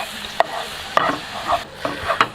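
Cola reduced to a thick, tar-like syrup is stirred and pushed around a hot non-stick pan, giving several separate scraping, sticky stirring strokes over a low bubbling sizzle, close and alone.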